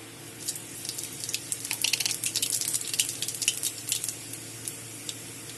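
Dry red chilli and black cumin seeds dropped into hot oil, a burst of close crackling and sizzling that swells for a few seconds and then settles into quieter spitting.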